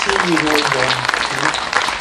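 Warm applause from an awards-ceremony audience for the nominees and winners, a dense steady patter of clapping filling the room while a voice speaks over it.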